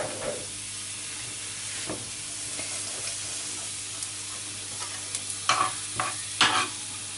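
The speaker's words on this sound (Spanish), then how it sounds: "Entonces, doramos un poquito el ajo." Garlic browning in a hot pan with a soft, steady sizzle and hiss, broken by several louder scraping stirs of a utensil toward the end, heard close without talk.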